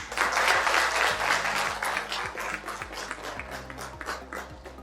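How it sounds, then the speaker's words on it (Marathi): Audience applause at a pre-launch event in Sindhudurg, a strong burst of clapping that gradually thins and softens, with a sustained musical tone underneath. "ते टाळ्या तुमच्यासाठी जोरदार पाहिजे"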